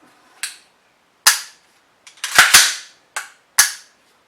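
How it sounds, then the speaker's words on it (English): A JMT Sabre drop-in AR trigger is dry-fired: about seven sharp, close metallic snaps at irregular intervals, two of them in quick succession, each decaying quickly into silence, with no talking. "Just dry firing it."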